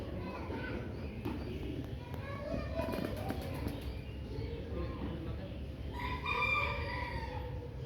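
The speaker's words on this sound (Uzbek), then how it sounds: "qora xo'rozlar" Black roosters crow in a yard with other poultry, one crow rising clearly near the end over a busy background of distant voices and children.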